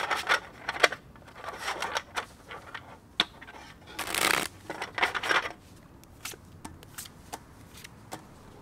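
Tarot cards being shuffled, with scattered soft flicks and riffling bursts, one longer riffle in the middle, close and fairly quiet, no talking.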